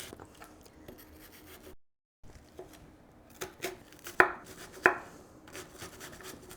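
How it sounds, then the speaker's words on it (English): A knife cutting a lime in half on a cutting board, soft rubbing and slicing scrapes, a brief silence, then two distinct close chopping thuds as the blade goes through, no voices. "we will cut this lime in half"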